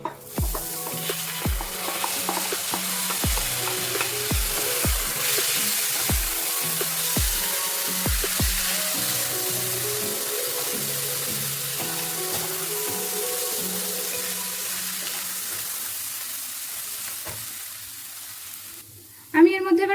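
Washed, pre-roasted moong dal sizzles and crackles in a pan with fried ginger, with repeated sharp clinks and scrapes of a spatula stirring close by over a continuous sizzle.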